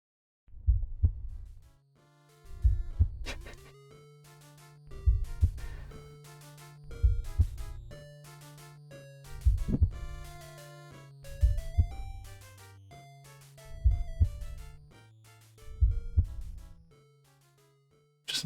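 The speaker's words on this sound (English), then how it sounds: "Just some pretty ominous heartbeats there" An ominous heartbeat sound effect from a Homestuck page: deep, thudding double beats repeating at a slow, even pace over a low sustained musical drone, loud and close, with no voices.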